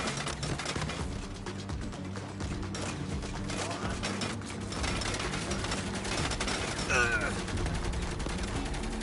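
Rapid bursts of gunfire in Saints Row, dense and continuous crackling shots rattling over engine rumble, with a voice briefly heard under the din.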